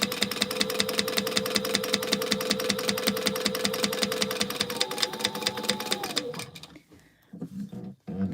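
A sewing machine top stitching a straight seam on a fabric gingerbread house gift holder, a steady rapid needle chatter running close for about six seconds before slowing and stopping, followed by brief handling noises.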